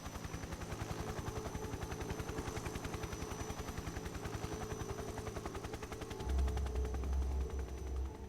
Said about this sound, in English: Like how the chopper just makes noise when it's convenient.